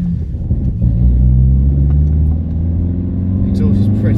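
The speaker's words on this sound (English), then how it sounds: "Exhaust is pretty loud." A modified stage 2 Audi A1 engine rumbles loudly with a deep, loud exhaust note with pops and bangs, revving steadily up close while people talk over it.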